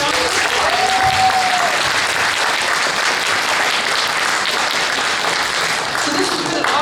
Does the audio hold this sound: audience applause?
yes